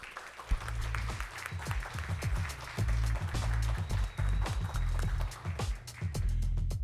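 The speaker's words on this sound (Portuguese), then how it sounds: "Vamos recebê-la com uma calorosa salva de palmas." Audience applause at a Brazilian careers forum panel, steady clapping from a crowd that swells and holds at a fairly loud level, with a few sharp close claps standing out and some faint voices underneath.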